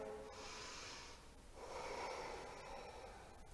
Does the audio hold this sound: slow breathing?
yes